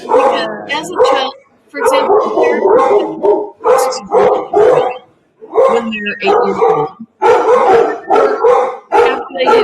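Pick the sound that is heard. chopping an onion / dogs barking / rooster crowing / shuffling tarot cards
dogs barking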